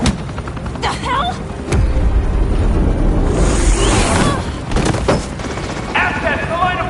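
Gunfire in the Batman: The Enemy Within video game, with sharp bursts and rapid volleys of shots alongside a loud whooshing rush, heard near and loud amid a chaotic scene.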